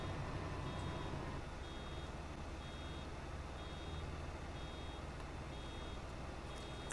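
Steady, evenly spaced reversing beeps from a small farm truck in Farming Simulator 25 repeat about once every 0.7 seconds, sitting over a constant low engine and ambient rumble with no voices.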